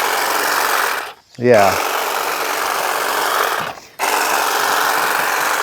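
A Saker hedge trimmer buzzes loudly and steadily as it cuts grass, breaking off into brief pauses before restarting, with a short spoken word in one of the gaps.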